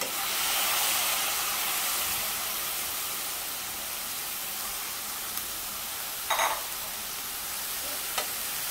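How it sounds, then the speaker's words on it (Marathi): Kantoli, a spiny wild monsoon gourd, sautés with onion in oil over a medium flame, giving off a steady close hiss and sizzle with a couple of brief utensil clinks near the end. "मीडियम फ्लेमवर आपल्याला तेल कांद्यासोबत कंटोळी परतून घ्यायची चांगली"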